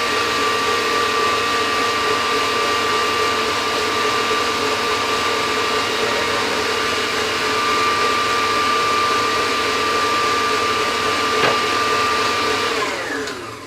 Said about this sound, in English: Sometimes your mixer doesn't hit the bottom, doesn't mix everything